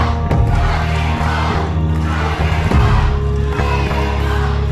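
Wrestling crowd at a live independent show roaring and cheering loudly, a dense continuous din with shouts rising over it.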